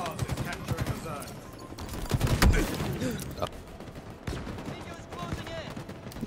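Rapid gunfire in the shooter game Halo Infinite, with bursts of shots and heavier impacts in the middle, heard under a player talking.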